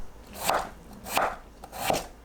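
Three evenly spaced knife chops through potato on a cutting board, each a crisp thunk, close and alone with no talking.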